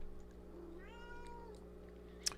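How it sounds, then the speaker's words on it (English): A cat in a trading studio gives a single rising-and-falling meow at moderate distance over a steady electronic hum, followed by a brief sharp click. "a cat that came up."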